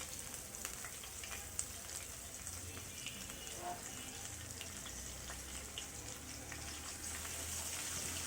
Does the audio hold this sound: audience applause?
no